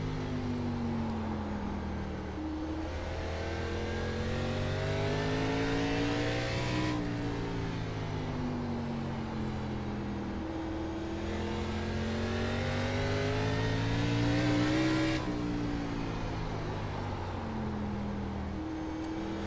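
A race car engine in an iRacing ARCA Menards Series race at Southern National, droning loud and close as it climbs through the revs, dips for shifts and corners, and pulls up again.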